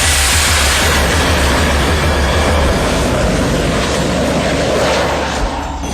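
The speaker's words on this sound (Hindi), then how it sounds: "देखिए, यहां से ये लड़ाकू विमान कभी लैंड कर रहे हैं तो कभी आसमान की उड़ान भर रहे" Fighter jets roaring loudly at a military airbase, a continuous close engine rumble and broad jet noise filling the whole stretch without pause.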